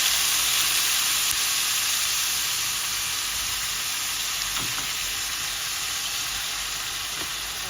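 Soy sauce sizzling and frying in a pan with pork adobo, a steady loud hiss that fades slightly over several seconds, with faint stirring clicks.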